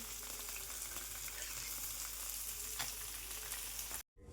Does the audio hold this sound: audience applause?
no